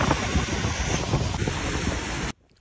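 Wind blows hard across a sailing boat at sea during stormy, cold weather. A loud, steady roar of buffeting wind fills the microphone, then cuts off abruptly near the end.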